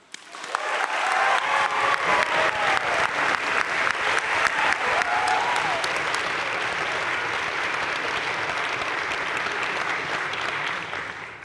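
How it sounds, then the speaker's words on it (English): Sustained applause from a large audience at a college honors convocation, a dense steady clatter of many hands clapping that continues evenly for several seconds with no voices over it. "I ask you to hold your applause until I've read all 4 of them"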